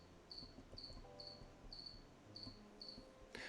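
Pet crickets, kept indoors as feeder insects for frogs and spiders, give about six faint, evenly spaced chirps against a quiet room.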